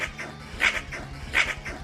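A small female dog gives two sharp yappy barks about a second apart, each with a short whimpering tail, faint and somewhat distant with no talking.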